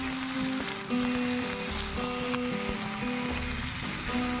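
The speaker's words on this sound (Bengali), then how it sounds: "তারপর ডুমুর আর আলুগুলো পেঁয়াজ আর তেলের সঙ্গে ভালো করে ভাজা করে নিতে হবে।" Figs, potatoes and onion sizzle while frying in oil in a pan, a steady close crackle with occasional stirring, alongside a faint background tonal hum.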